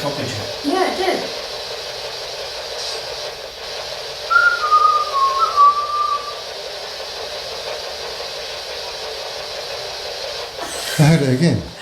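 During a paranormal investigation, one person whistles a short rising-and-falling tune of a few notes. It sounds clear and close in a quiet room, with people talking briefly before and after.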